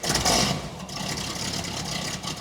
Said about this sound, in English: Can you guys identify what kind of engine that is?